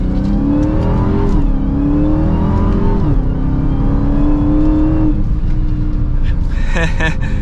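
A 2022 Dodge Charger SRT Hellcat Widebody accelerating hard in first gear, the engine note climbing in loud rising sweeps with quick paddle-shifted drops between them, heard close from inside the car.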